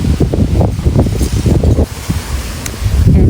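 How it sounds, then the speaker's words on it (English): Strong gusting wind buffets the microphone on a blustery day outdoors among trees, a loud continuous low rumble with surging bursts and no voices. "it's a super windy day"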